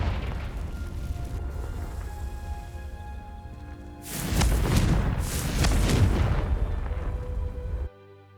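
A Confringo spell blast sets dry vines ablaze in Hogwarts Legacy: a steady low rumble builds into a loud, roaring fiery burst with crackling flames for several seconds before cutting off abruptly.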